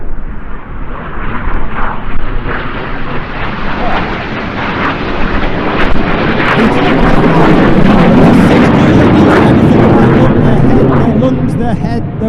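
Red Arrows jets at an airshow roar past in a loud, continuous broadband rush that swells through the second half, with a commentator talking over the engine noise throughout.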